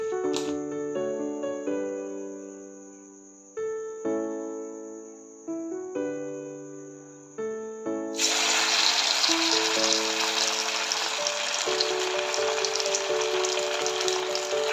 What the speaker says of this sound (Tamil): நம்ம ரெடி பண்ணி வச்சுருக்க பக்கோடாவை ஒன்று ஒன்றா போட்டு எடுத்துக்கலாம்